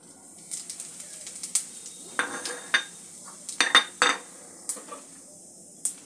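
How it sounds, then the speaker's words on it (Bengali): Whole cumin, a broken bay leaf and a broken dried chilli sizzle in hot oil, a soft continuous hiss broken by sharp clinks of a metal utensil against the pan. "ফোড়নটা একটু ভেজে নেব"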